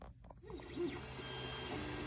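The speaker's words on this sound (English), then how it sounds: "So Jamie just got a 3D printer. We're testing it out with a couple of trial runs." A newly bought 3D printer runs a trial print, its stepper motors whining in rising and falling sweeps over a steady mechanical hum.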